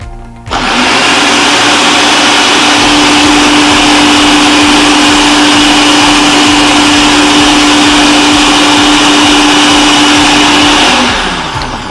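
A blender whirs loudly and steadily for about eleven seconds, blending food into a puree, then spins down at the end.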